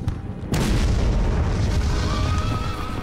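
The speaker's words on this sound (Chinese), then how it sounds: "袁崇焕指挥城内守军以红衣大炮猛轰敌阵" Red-coat cannons fire on an enemy army from the walls of besieged Ningyuan city, a loud sustained booming barrage of artillery that rumbles continuously and heavily, rising sharply after a brief quieter opening.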